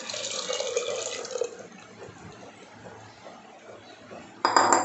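Ground lentils go into a pot of Hyderabadi bottle gourd dalcha with soft wet scraping and faint utensil clinks, ending in a short, louder clatter against the pot.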